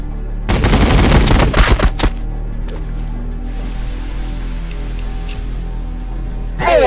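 Rapid automatic gunfire from a Warhammer 40,000: Battlesector battle, loud dense bursts for about a second and a half, then a fading low rumble of battlefield ambience with a brief burst returning at the end.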